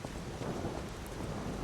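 Steady heavy rain in the video game Lies of P, a dense continuous wash of noise with a low rumble beneath it, loud and unbroken, no voices.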